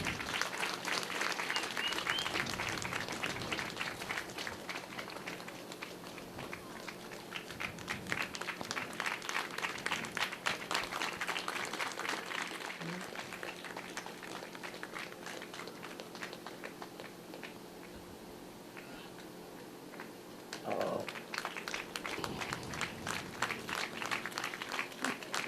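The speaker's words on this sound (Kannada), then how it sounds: "ಜೋರಾದ ಚಪ್ಪಾಳೆ." Loud audience applause at a Kannada stage event honouring Patla Satish Shetty, dense sustained clapping through most of the stretch, dipping briefly near the end before surging again, with no speech over it.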